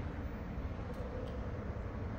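An LG dryer running a time-dry cycle with its blower going, a steady broadband whir and rumble that stays even and moderately loud throughout.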